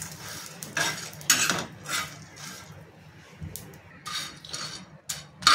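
Finely chopped ginger and garlic roasting in a pan for homemade misal: a utensil stirs and scrapes against the metal in irregular bursts, with clinks and a faint sizzle underneath.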